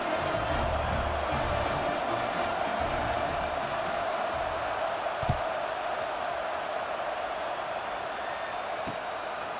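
A stadium crowd in College Football 26 murmurs steadily around a kickoff in a Georgia versus Ohio State game, a broad, even wash of distant crowd noise with a couple of brief thumps.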